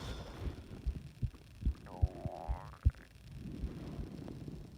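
Quiet stomach rumbling: low gurgles and soft thumps with one drawn-out, warbling gurgle in the middle, heard close and alone.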